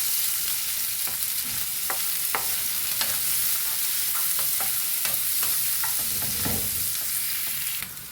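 Onions and green chillies fry in a pan for methi aloo tomato curry, a constant hiss of sizzling oil broken by sharp clicks and scrapes of a spoon stirring, close and alone.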